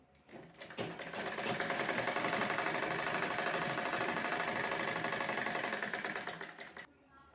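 A sewing machine stitches a topstitch line along a fabric purse, a steady, fast mechanical whir and rapid needle clatter running continuously for about six seconds, close and loud, then stopping.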